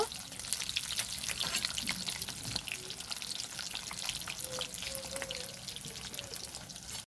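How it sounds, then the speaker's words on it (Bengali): Rohu fish pieces sizzle in hot oil as they are turned, a continuous close frying hiss with small pops and light scraping clicks, without talk. "এভাবে আমি উল্টে পাল্টে ভালো করে ভেজে নেব"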